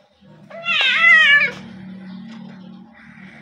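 A pet cat gives one loud, drawn-out meow close by, followed by quieter low purring or grumbling and a faint short sound.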